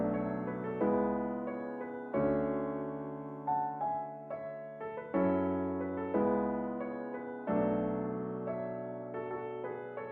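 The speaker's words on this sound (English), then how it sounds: "so without any effects, the piano sounds like this." A dry, clean piano plays a slow sequence of sustained chords, each struck and left to ring before the next, with no talking.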